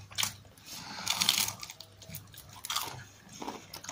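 Crunchy food is bitten and chewed up close in irregular crisp crunches and wet mouth sounds, with a low steady hum underneath.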